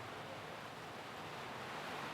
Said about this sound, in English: Rain is just ridiculously loud.